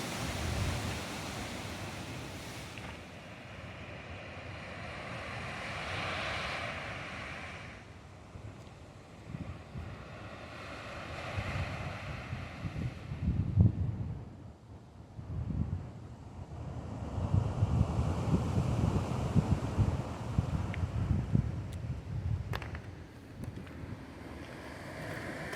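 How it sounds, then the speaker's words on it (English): Sea water surging and splashing inside a cave on the Oregon coast, a low rumbling wash that rises and falls in irregular swells, mixed with gusty wind buffeting the microphone, no talking. "If you listen closely, you can hear the water splashing in the cave."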